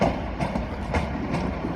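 A Class 150 diesel train, units 150 106 and 150 127, moving through Manchester Piccadilly with a steady rumble and periodic clickety-clack of wheels over rail joints, fairly close.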